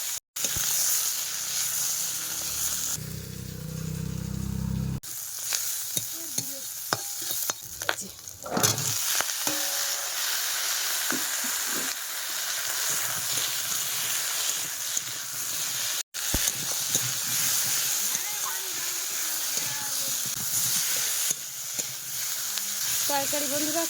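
A curry sizzles and fries in a pan while being stirred, with steady sizzling hiss and intermittent scraping stirs throughout; a brief muffled voice-like sound appears early on.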